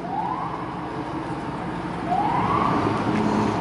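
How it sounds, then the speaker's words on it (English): A police siren wails in rising sweeps, twice, distant at first and growing louder, over steady road and engine noise heard from inside a moving Cadillac convertible. "you hear the popo siren, you look."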